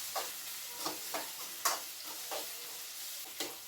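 Tomatoes frying in a pan give a faint, steady sizzle, with a series of soft scraping stir strokes recurring roughly every half second.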